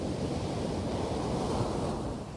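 Steady surf rolls onto the beach at Ocracoke Island in the Outer Banks, a close, even wash of breaking waves with some wind rush and no talking.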